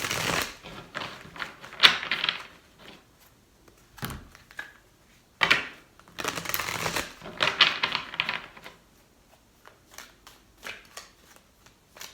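Tarot cards being shuffled by hand in three bursts of riffling and snapping, close and crisp, separated by short pauses and light taps.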